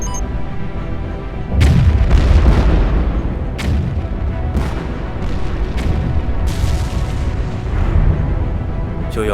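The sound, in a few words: electromagnetic bomb explosion in animated series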